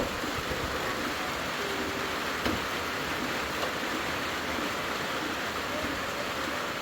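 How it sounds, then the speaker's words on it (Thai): Steady rain falls with a soft, even hiss, continuous and fairly quiet, with no voices heard. "ก็ฝนมาอีกแล้ว"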